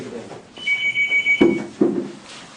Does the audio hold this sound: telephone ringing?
yes